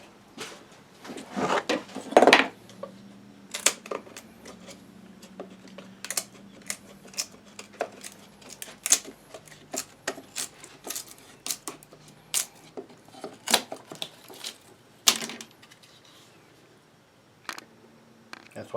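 A wood chisel wiggles and pries inside a potato box joint, making scattered close clicks, taps and scraping knocks at an irregular pace, with quieter gaps between.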